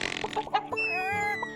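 Chickens cluck in a short burst of choppy, nasal calls followed by a drawn-out, wavering squawk, close by and clear with no speech over them.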